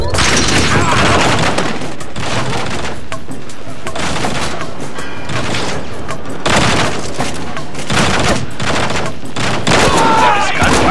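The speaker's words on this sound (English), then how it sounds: "There is gunfire." Bursts of gunfire from The Bourne Conspiracy video game, loud and continuous volleys of rapid shots in repeated waves, with voices faintly mixed in.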